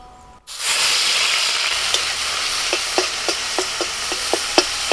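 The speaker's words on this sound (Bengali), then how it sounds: "কড়াই আবারও সর্ষের তেল দিয়ে দিয়েছে, তেলটা গরম হয়ে গেছে। এখন দিচ্ছি পেঁয়াজ বাটা" Onion paste hitting hot mustard oil in a kadai, a sudden loud sizzle that keeps hissing steadily, punctuated by a series of sharp spatter pops and stirring clicks, close up.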